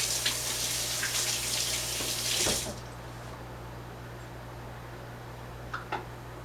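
Hands washed quickly under a running kitchen tap, a steady close rush of water with splashing that stops abruptly, followed by quiet room tone and a couple of faint clicks.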